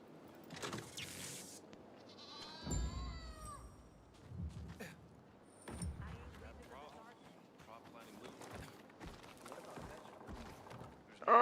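A goat bleats in Dying Light 2, a few wavering cries among animal calls and game sounds, with a voice talking over parts of it.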